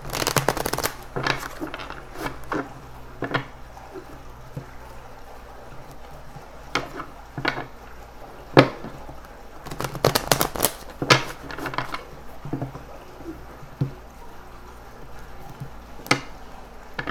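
Tarot cards are shuffled by hand in repeated bursts of riffling and snapping, with quiet gaps between the shuffles.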